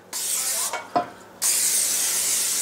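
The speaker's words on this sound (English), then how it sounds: "I'm going to spray it generously." Two long bursts of aerosol cooking spray hiss into a pan, close and loud, separated by a short pause and a couple of soft clicks.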